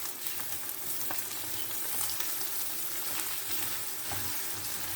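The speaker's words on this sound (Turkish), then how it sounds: "Birkaç dakikada bu şekilde sotelensin." Steady sizzling and crackling of chopped green peppers and vegetables sautéing in a hot pan, continuous and close, with occasional soft stirring scrapes.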